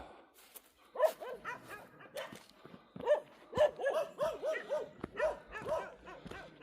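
Several dogs barking around a house deep in the mountains, a mix of sharp repeated barks and yips from more than one animal, fairly close, coming in bursts.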